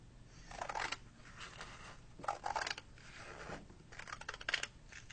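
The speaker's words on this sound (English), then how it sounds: "we are going to cut along this seam." Scissors snip through folded sheets of paper along a seam, three separate bursts of crisp cutting and rustling, close and fairly quiet, with short pauses between them and no talk.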